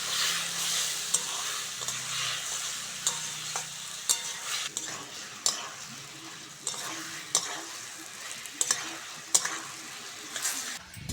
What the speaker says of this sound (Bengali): আলুটা মশলার সঙ্গে ভালো করে কষে নিয়েছি